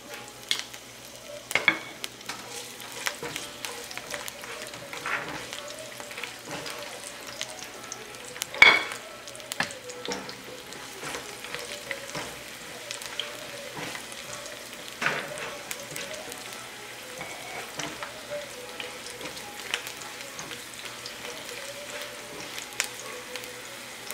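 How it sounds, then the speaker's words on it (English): Garlic fries in oil in a pan with a soft, steady sizzle and crackle throughout, with an occasional louder pop or clink of a utensil against the pan. The sound is moderately close and there is no talking. "Well, I already add the oil there. Just add the garlic."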